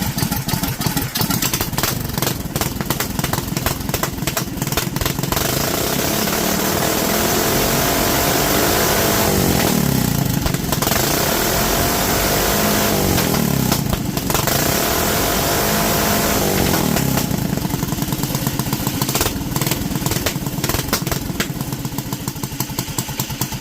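A Duromax 440 small engine with an NR Racing Twister cam, built as a cheater stock racing motor, runs loudly and continuously up close. It barks through rhythmic revs and throttle blips, with a few rises and falls in pitch.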